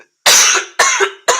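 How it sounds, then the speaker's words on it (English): Three loud, close coughs in quick succession from a woman chatting during a livestream, each a harsh burst of about half a second, separated by short gaps. "I'm going to try not to cough too much."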